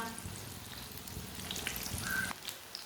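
Pakoras cook in a pan with a quiet, continuous sizzle and some faint scraping and shuffling, fairly soft and alone.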